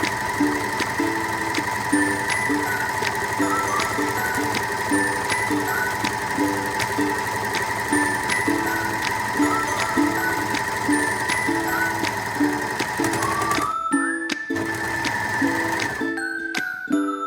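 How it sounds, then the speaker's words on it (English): An overlocker sewing a zipper's fabric edge runs fast and steady with a rapid rhythmic stitching clatter and motor whine, then slows and stops near the end. "Now we're going to use the overlocker by sewing the edge"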